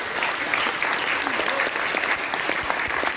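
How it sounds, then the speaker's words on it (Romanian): Steady applause from a concert audience for a singer at a music competition award, dense clapping filling the whole moment at an even level, with no voices standing out. "Vă rog aplauze pentru doamna."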